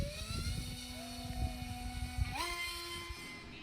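The electric motor of a ZOHD Talon 250g RC plane whines steadily during an auto launch outdoors, then climbs sharply in pitch as it spins up, over rough wind and handling noise.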